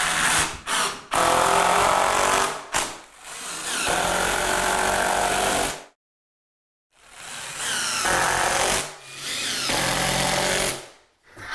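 A power drill drives exterior-rated screws through corner bead into a wall corner, whirring in several loud, close bursts of a few seconds each, separated by short pauses and one longer silence, with no talk.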